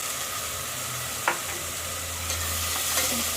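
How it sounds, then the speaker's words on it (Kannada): Onions frying with ginger-garlic paste and green chilli paste for green chicken biryani give a steady broadband sizzle. A few sharp stirring scrapes rise above it and no one speaks. "ಈರುಳ್ಳಿ ಹಾಕಿ ಫ್ರೈ ಮಾಡಬೇಕು ಆಮೇಲೆ ಶುಂಠಿ ಬೆಳ್ಳುಳ್ಳಿ ಪೇಸ್ಟು ಹಸಿಮೆಣ್ಸಿಕಾಯಿ ಪೇಸ್ಟು ಈ ರುಚಿ ತಕ್ಕಷ್ಟು ಹಾಕಬೇಕು"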